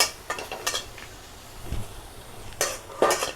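Damp dried fish is tossed in a wok before any oil goes in, giving a faint hiss under a few quick, close scraping and clattering stirs that come in short bursts.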